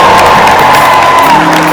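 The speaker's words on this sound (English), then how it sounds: "Give them all a round of applause." A large concert crowd at Barclays claps and cheers continuously for the acts at a Mother's Day show, a loud, sustained roar of applause with whoops in it.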